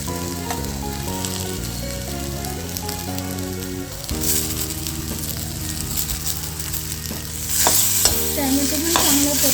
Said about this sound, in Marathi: कांदा लालसर छान परतला आहे आता आपण खोबरं पण परतून घ्यायचं आहे